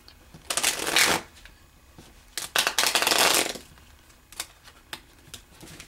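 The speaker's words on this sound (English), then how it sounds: "I'm going to shuffle these cards really good" Playing cards riffle-shuffled close up in two long bursts of crisp fluttering, followed by a few scattered light taps and flicks.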